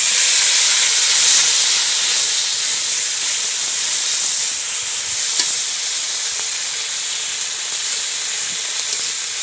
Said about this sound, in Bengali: এই বাকি মাছগুলো আমি সেভাবে ভেজে নেব